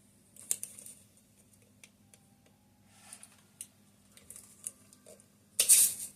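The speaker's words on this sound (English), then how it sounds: "And I like to put the tape on first." Tape is handled, torn and pressed on while a puppet dragon is built: scattered soft ticks and crinkles close by, ending in a louder rustling rip.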